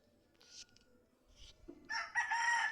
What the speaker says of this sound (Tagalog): Ayun yung pangsabong ni tatay.